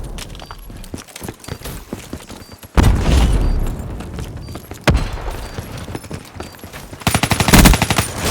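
Heavy explosions and rapid gunfire fill a Black Ops 3 Demolition match as Hellstorm missile strikes land, with loud booming impacts breaking through a dense, continuous rattle of shots.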